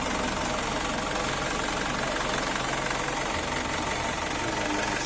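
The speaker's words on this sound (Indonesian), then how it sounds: "Mesinnya garing sering" A 2014 Isuzu Elf HD truck's diesel engine runs rough at idle, a loud, dense, continuous clatter with a knocking, vibrating character heard up close and alone.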